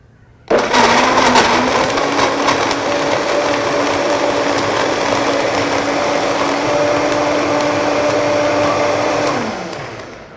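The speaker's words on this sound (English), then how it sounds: "This is a Vitamix blender, which is a very powerful blender." A powerful Vitamix blender whirs loudly and steadily for about nine seconds while blending a smoothie, starting abruptly and winding down at the end, with no talking over it.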